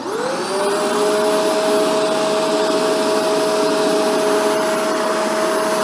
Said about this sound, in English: So now, I'll turn the vacuum on.